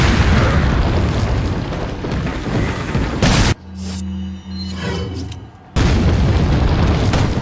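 A hand grenade explodes in the video game Resident Evil 4 with loud, sustained booming blasts, then a muffled lull follows before the heavy rumble returns.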